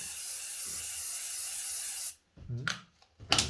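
A continuous hissing spray from an aerosol can lasts about two seconds then stops abruptly, followed by a few short rustling and handling noises.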